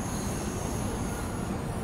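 A London Overground Class 710 electric train on the Suffragette line, simulated in Train Sim World 4, runs with a steady, even rumble and faint high whine, continuous and unbroken.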